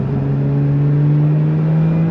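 A Lotus Emira sports car engine hums steadily up close on country roads, a sustained low drone with a slight rise in pitch as it accelerates through turns.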